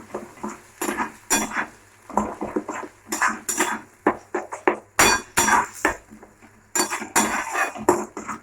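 A spoon stirring salted leafy greens in a metal pan, a run of sharp, rapid clinks and scrapes in irregular bursts with brief pauses, close and fairly loud, no voices.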